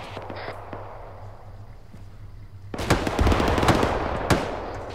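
Machine gun fire in the video game ArmA 3: a low steady hum at first, then from about three seconds a dense, loud burst of rapid overlapping shots with sharp cracks.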